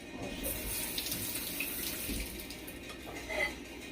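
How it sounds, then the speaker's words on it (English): An apple being washed under a running kitchen tap: a close, continuous splash of water over fruit for a few seconds, with no voices. "Apple, just wash it."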